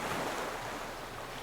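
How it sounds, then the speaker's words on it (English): Ocean waves lap gently against a beach in a steady, continuous wash of surf, with a soft windy hiss throughout and no voices. "And the ocean gently laps against your ankles."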